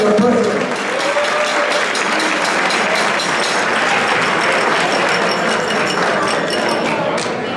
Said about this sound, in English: Big round of applause for Tony Petti, our president.